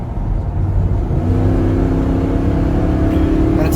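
Ford F-250 pickup with the 6.2 engine and six-speed automatic revving, a steady loud engine drone rising in pitch toward the end, close and alone with no talk.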